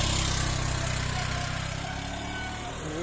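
A motorcycle engine runs steadily at close range, a low rumbling idle that fades gradually as the bike is ridden away, with no voices over it.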